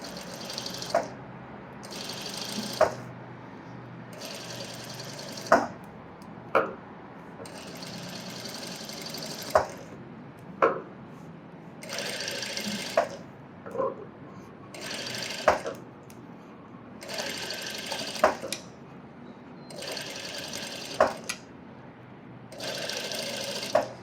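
A sewing machine runs stitching a blouse neckline, its whirring needle in repeated short bursts separated by brief pauses, each burst ending in a sharp click, close and steady with no talking.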